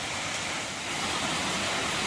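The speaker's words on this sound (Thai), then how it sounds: "เนี่ยดูน้ำตกนะครับ น้ำตกธรรมชาตินะครับเนี่ย" A natural waterfall at a scenic viewpoint by a cafe gives off a steady, broadband rushing roar, moderately distant and constant throughout the short stretch, with no voices.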